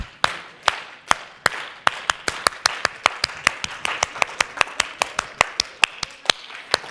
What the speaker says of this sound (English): Clapping is a great way to release any negative energy that builds up in the body.